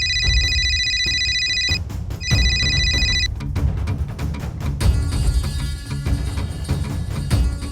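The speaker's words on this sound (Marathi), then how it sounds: "सासूबाईंचा फोन येतोय" A telephone ringtone rings loud and close in two electronic bursts, then other busy sound continues, in a Marathi TV serial scene.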